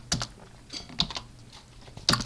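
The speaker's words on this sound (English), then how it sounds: "the first way is to type in a program at the command line" A few close, light keystrokes on a computer keyboard at a TempleOS command line, sparse taps spread across a quiet moment with no speech.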